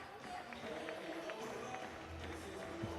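A stadium crowd at para climbing finals in Laval, France, roaring and chanting steadily from a distance, a dense continuous wash of voices with brief rhythmic accents and no individual talk standing out.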